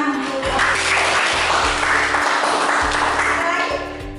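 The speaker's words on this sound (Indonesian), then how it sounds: "Ya, tepuk tangan untuk." A classroom of students claps briefly together during a lesson, a loud broadband patter of applause over a steady background hum, with interrupted low thumps from the room system running under it.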